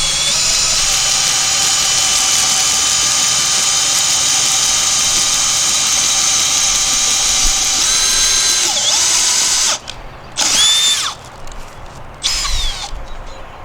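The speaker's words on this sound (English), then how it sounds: "start drilling." Power drill boring peg holes through timber frame wood, a loud sustained whining drone running steadily for about ten seconds, then a few short stop-start bursts as the bit eases and restarts.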